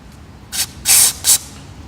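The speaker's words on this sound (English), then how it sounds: "I'm going to give it a bit of a spray." Three short bursts of aerosol spray hiss close to the microphone while cleaning a sensor on a Ford Focus ST 225 Mk2, the middle one longest, with quiet pauses between them.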